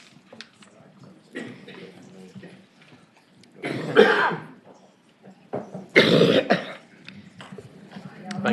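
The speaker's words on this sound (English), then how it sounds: "If I can get my coughing under control." Several harsh coughs and throat clearing in bursts, close to the microphone, separated by quiet pauses.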